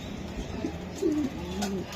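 Racer pigeons coo softly nearby in a few short, low rounded calls, one after another, with no talking over them.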